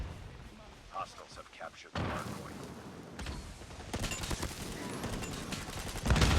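Gunfire in a ranked multiplayer match of the video game Call of Duty: bursts of rapid shots and heavy booming thuds, some distant, building in intensity, with a player talking over the action.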